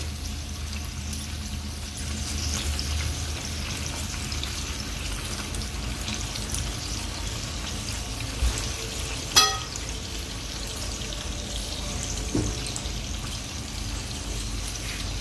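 Chicken shashlik pieces frying in a pan over a low flame as they are flipped one by one, a steady sizzle broken by a few sharp clinks and scrapes, close by, with no talk.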